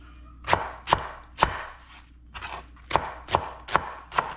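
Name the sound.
knife chopping an onion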